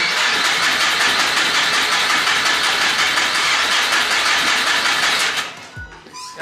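A black Nissan Sentra's engine cranks loudly and steadily for about five seconds without catching, then the starter cuts off into near quiet with a brief low thump.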